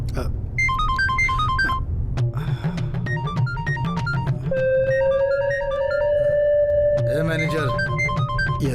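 A phone ringtone plays as a repeating electronic melody over a steady film soundtrack hum in a Hindi comedy movie scene, the tones looping several times with a long sustained beep partway through.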